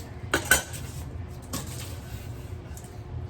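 Knife slicing through an onion near the root end on a cutting board, with two quick sharp cuts close together early on, then a softer single stroke, all close and fairly quiet.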